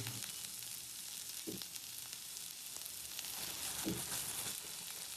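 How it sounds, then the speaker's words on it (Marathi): Curry leaves and green chillies sautéing in a hot pan, a constant soft sizzle and crackle with a couple of brief stirring scrapes, fairly quiet and close, no voices. "परतून घ्यायचं चांगला. कढीपत्ता, मिरची,"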